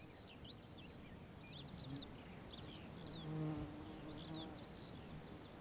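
Honeybees buzz steadily around blackberry blossom, a dense continuous hum of many insects at close range, with faint bird calls in the background.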